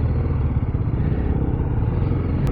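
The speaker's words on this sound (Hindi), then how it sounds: "अपनी बाइक चलाने का मज़ा अलग है यार" An Apache RR 310 motorcycle rumbles steadily while being ridden, a close, loud, continuous engine drone with wind roar and no pauses.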